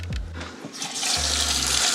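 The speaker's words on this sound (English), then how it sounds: "Water pump works. No leaks." A newly installed van water pump with accumulator hums low and steady while water from the tank gushes loudly and continuously from a tap, close by, after a brief start-up.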